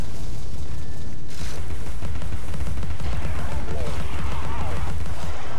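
Gunfire in the video game Alice: Madness Returns, with loud, dense bursts of shots and booming impacts packed together over a continuous rumbling game soundtrack.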